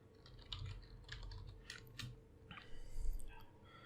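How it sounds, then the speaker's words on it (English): Quiet, close laptop keyboard typing, a quick run of light key clicks followed by a slightly firmer tap, with no talk over them. "Suppose this time I type laptop and press enter."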